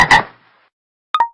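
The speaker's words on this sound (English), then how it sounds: "frog," Frog gives a short, loud double croak up close at the start, followed by silence and a small pop at the end.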